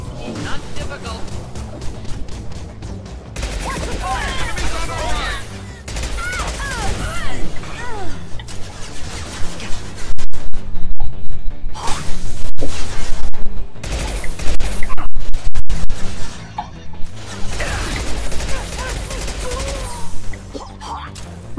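Heavy sustained gunfire and booming combat in Mass Effect 2 as ammunition runs low, loud bursts and crashes throughout with dense mechanical clatter and a few brief gaps.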